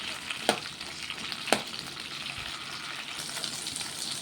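Green chillies frying in oil in a pan, a dense steady sizzle with two sharp spatula knocks early on, close and continuous with no voices.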